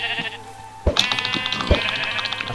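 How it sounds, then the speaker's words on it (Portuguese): Sheep in a video game bleating, two or three wavering cries close up with sharp thuds of hits between them, fairly loud and without talk. "Olha aqui, bullying na ovelha."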